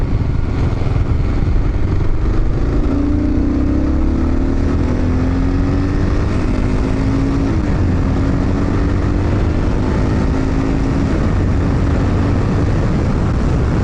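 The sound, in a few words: Kawasaki KLR 650 motorcycle riding along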